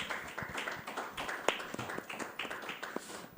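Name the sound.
audience applause for panel speaker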